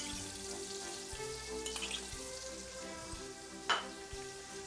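Pineapple and mango pieces frying in a pan for a fruit sauce, giving a steady low sizzle with a few soft clinks and one brief sharp spatter, heard close and alone.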